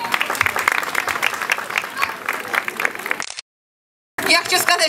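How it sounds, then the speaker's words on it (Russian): Clapping from the crowd at a jewelry exhibition opening fills the room, dense and lively, then cuts off abruptly into a moment of silence before the applause resumes. "ваши аплодисменты."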